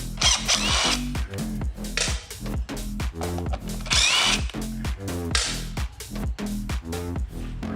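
A power drill spins the brake rotor bolts off a 2019 Honda Grom wheel, heard up close as loud, repeated short bursts of whirring in a steady stop-start rhythm.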